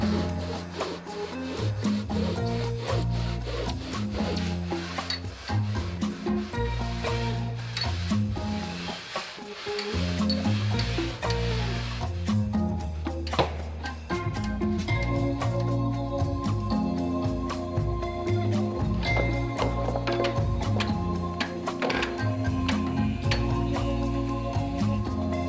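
Planer taking the bulk off a wooden surfboard-style fishtail blank: a continuous close rasping, shaving rub with shifting pitch, steady and fairly loud throughout with no talk.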